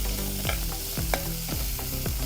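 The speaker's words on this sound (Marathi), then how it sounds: "कांदाही आपल्याला जराशी गुलाबी होईपर्यंत परतून घ्यायचा आहे असा गुलाबी होतोय" Onion sautéing in a pan, steady frying sizzle with repeated stirring scrapes about every half second, close and continuous with no talk.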